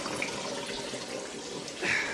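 Running water splashes steadily into a bowl set so that it rocks slightly, a continuous close hiss with a brighter gush near the end.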